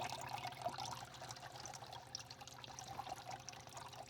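Water streams steadily in a half wine barrel fountain fed by a small pump, a continuous close trickle and splash with no pauses and no talking.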